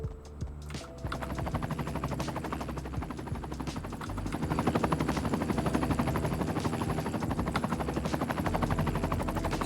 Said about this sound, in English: It's just a firefighting helicopter.